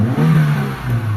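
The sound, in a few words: Mitsubishi Lancer GLXi engine revving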